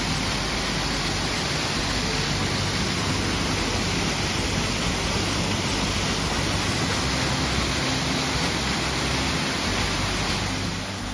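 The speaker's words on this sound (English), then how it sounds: "I'm at the top of the falls here" A waterfall on the Appalachian Trail, heard from the top of the falls: a steady, loud, unbroken roar of rushing water that fills the whole stretch with no voices.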